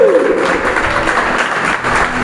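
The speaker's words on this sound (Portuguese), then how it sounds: "Vamos aplaudir o Espírito Santo." A church congregation at a Baptist service applauds in a dense, steady burst of clapping lasting a couple of seconds, with a speaker's voice briefly over the start.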